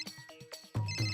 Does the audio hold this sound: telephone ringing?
yes